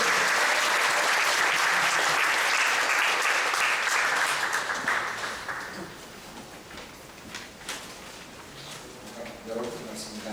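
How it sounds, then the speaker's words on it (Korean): A church seminar audience claps loudly to welcome a professor to the stage. The dense applause lasts about five seconds, then thins and fades as the room settles and talk begins. "환영이 기쁨의 박수 한번 드렸으면 되겠습니다"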